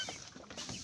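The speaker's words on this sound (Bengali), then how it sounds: "এখানে কিছু দেশি মুরগির একটি ছোট্ট খামার" A few native chickens cluck softly on a small village farm, with short faint calls heard close by and no voices.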